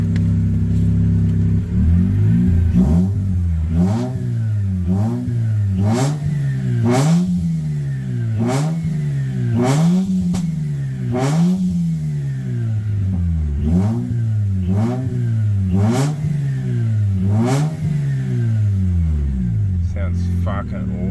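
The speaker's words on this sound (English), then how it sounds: "Just a quick little rev." A replacement rotary engine in a Mazda RX-8 revs about a dozen times in a steady rhythm, each blip rising sharply and falling back to a loud, close idle across the whole stretch.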